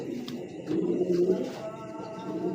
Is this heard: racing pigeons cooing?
yes